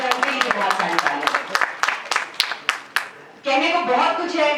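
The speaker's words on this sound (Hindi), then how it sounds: "उनके लिए बहुत सारी तालियां" Audience at a Pakistan Peoples Party gathering in Islamabad claps in a burst of sharp, irregular hand claps that thins out before a voice resumes speaking over the hall.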